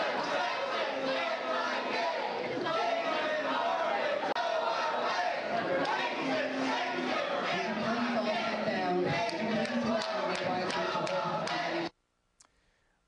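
A large crowd at Emory University chants loudly and continuously to drive a speaker off stage, with shouts and clapping mixed in, before an abrupt cut to near silence.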